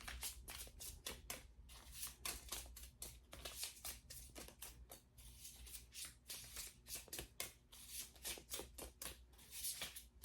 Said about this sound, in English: Let's get a couple more cards out.